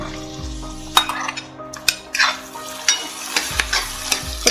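Four chopped medium onions stirred in a hot pan for a Kerala meat roast, soft sizzling under sharp scrapes and clinks of a spoon against the pan in an uneven rhythm, close and fairly loud.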